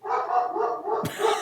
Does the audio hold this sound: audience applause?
no